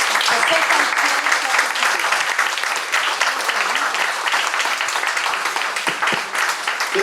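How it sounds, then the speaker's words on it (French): Loud, dense audience applause at an evening café philo gathering after a talk on artificial intelligence, continuous clapping with some voices mixed in beneath it. "je vais vous demander de faire un tonnerre d'applaudissements à Philippe qui a gagné ce soir"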